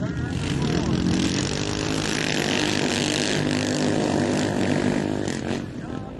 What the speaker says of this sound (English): They wave the green flag, then you have to start the ATV, and away you go.